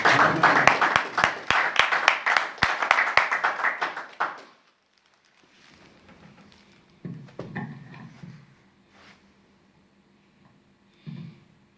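A church congregation applauds at a Sunday service, a dense burst of clapping with sharp individual claps lasting about four seconds before cutting off. Scattered quiet sounds, breaths and a few faint noises follow in the near silence afterward.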